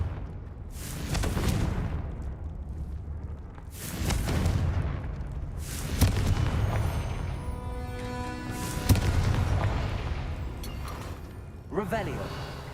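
Deep explosive booms from the Confringo fire spell in the video game Hogwarts Legacy, about five separate heavy blasts spaced a few seconds apart, each with a rumbling tail and crackling debris.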